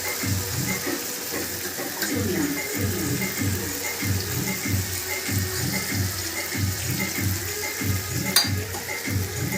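Water poured into mutton curry cooking in a pan, with a steady close sizzle and hiss running through the whole stretch and no talking.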